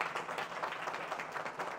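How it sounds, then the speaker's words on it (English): An audience at a curling club's annual meeting applauds, a steady, faint patter of many hands clapping at once. "let's give them another round of applause"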